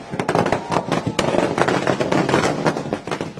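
Firecrackers and fireworks going off at a street victory celebration after Jharkhand election results, a dense, continuous barrage of sharp crackling bangs overlapping one another, loud and close throughout.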